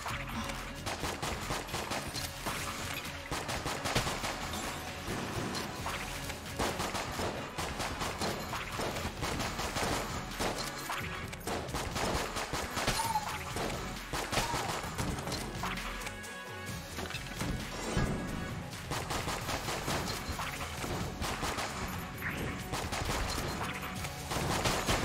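Dense, continuous game audio from Enter the Gungeon, with rapid gunfire and impacts over music, steady and moderately loud throughout the whole stretch.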